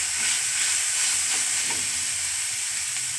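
Beans and a boiled potato filling for a stuffed semolina and flour omelette fry and get stirred in a pan, giving a dense, constant close-up sizzle with faint scraping.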